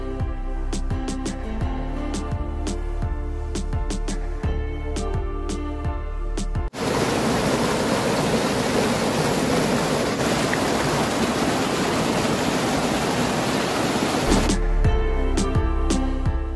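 The Betwa river at its bank in Orchha gives off a broad, steady rushing wash in the middle section. It starts abruptly, runs for several seconds and stops abruptly, between stretches of other sound.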